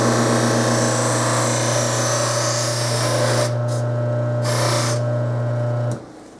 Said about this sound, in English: What I'm doing is buffing all the areas that either do not have lacquer on it